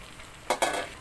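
Pork sautéing in a pan, a soft steady sizzle broken by two sharp bursts of frying hiss as the meat is stirred, close and fairly quiet, with no talk.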